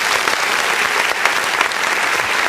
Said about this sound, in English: Let me give you another applause.